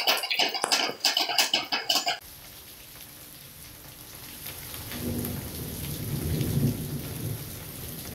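Heavy rain pours steadily during a flooding downpour in Brazil's Nordeste, with loud cracking thunder bursts at the start giving way to a continuous rushing hiss and a low rumble swelling midway.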